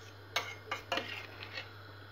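A metal lid is set down on a pot of vermicelli soup after salt is stirred in, giving a few light clanks and clinks close by over a steady low hum.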